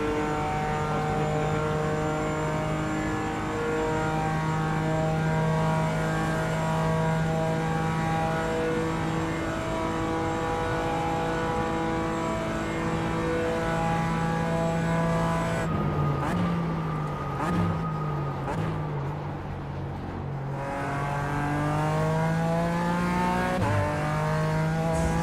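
A race car engine in a sim racing game, a steady high-pitched drone held at sustained revs, dipping briefly as it shifts and then climbing again, continuous and close throughout.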